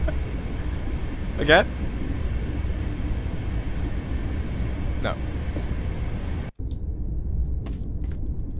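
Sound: passing train in a spooky indie video game

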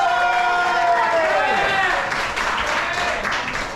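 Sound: audience applause for both competitors

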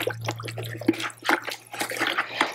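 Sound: stirring sugar syrup in a bucket

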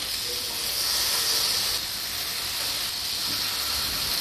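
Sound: chicken tikka pieces sizzling on hot buttered grill pan

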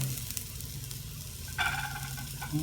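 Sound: onion sautéing in pan

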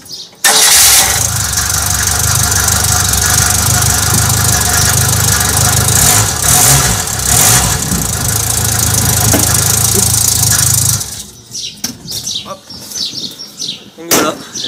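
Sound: Renault 4L car engine starting on petrol

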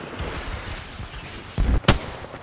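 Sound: gunfire in the video game Apex Legends

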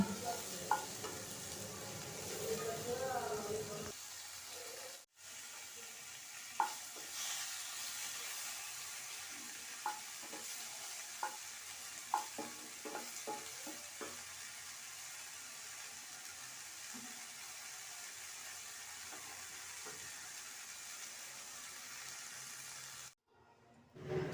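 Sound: frying cashews and ginger in a pan

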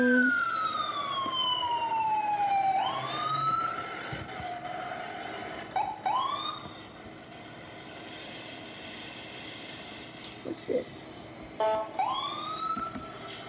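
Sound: ambulance siren in video game

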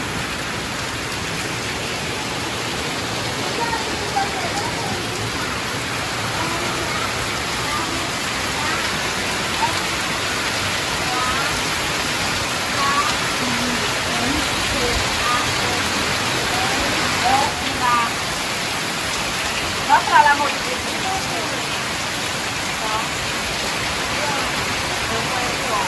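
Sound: heavy rain falling outside

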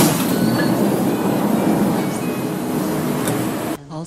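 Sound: train arriving at station in Roblox game

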